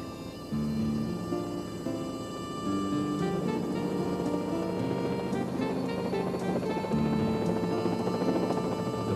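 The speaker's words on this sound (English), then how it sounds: "with its familiar bubble nose and the distinctive sound of its rotor blades" A Bell 47 helicopter with its bubble nose runs steadily, the rotor blades throbbing in a continuous beating drone with a tonal engine hum underneath, moderately loud and unbroken throughout.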